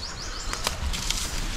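An egret or heron takes off outdoors with a few quick, close wing flaps, heard as short papery whooshes over low background rumble.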